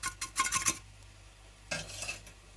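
A spoon stirs spice powders into cotton seed milk in a pot, giving two short bursts of scraping and clinking against the metal separated by a quiet pause.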